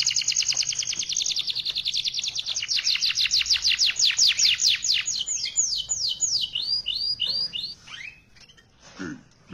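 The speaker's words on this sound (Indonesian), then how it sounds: "Berarti burung sudah kelihatan, dia berarti aktivitas, dia lincah, terus dia mandi sendiri." A pet bird chirps rapidly and continuously while bathing itself, with bright, close, fast repeated tweets that slow into separate calls near the end, and no talking.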